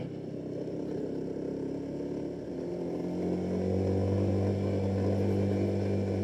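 Motorcycle engine labouring up an extremely steep road on the southern coastal route near Tulungagung with two riders aboard, a steady loud drone that deepens and strengthens midway as the load rises, with no talk over it.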